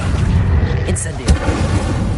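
Incendio fire spell blast in Hogwarts Legacy, a short whooshing burst and dull boom amid rumbling game combat, with a voice speaking.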